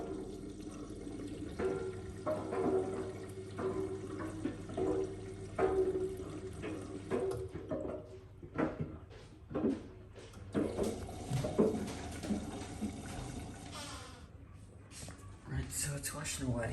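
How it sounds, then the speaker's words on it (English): A Miele W1 washing machine drains a little water during a cleaning cycle, with intermittent gurgling, sloshing and trickling, a steady low hum under part of it, and clunks and movement toward the end. "It drained out a wee bit of water there for some reason"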